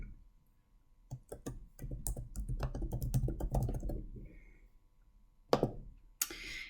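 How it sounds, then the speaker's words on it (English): Typing on a computer keyboard, a close, quick run of clicking keystrokes that thins out, with a few sharper isolated clicks afterward and no voices. "you will type whatever it is that you want it to be"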